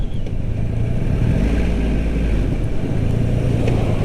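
A 2022 Triumph Rocket 3R, a very large-displacement three-cylinder motorcycle, decelerates on the road with a low, rumbling engine drone under wind noise, steady and close throughout with no speech.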